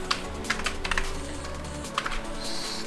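Typing a file path on a computer keyboard, with a quick burst of key clicks followed by a pause and then a few more taps, close and moderately quiet over a faint background hum.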